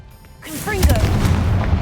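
A Confringo fire spell cast in Hogwarts Legacy, a loud booming burst that lands right after a brief low rumble and then sustains as a crackling, roaring blast with whooshing swirls.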